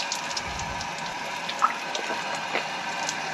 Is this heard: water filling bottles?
yes